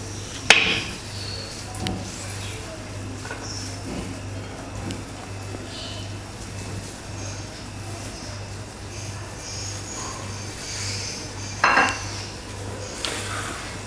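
Mutton pieces go into a clay handi: a few soft knocks and clatters near the start and again near the end, fairly faint over a steady low background hum.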